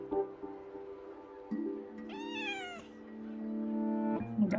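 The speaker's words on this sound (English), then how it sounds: "I got that Chisa pet and cat emote." A cat emote meows once in the video game Wuthering Waves, a rising and falling meow over steady sustained game music, clear and moderately loud, with no talking.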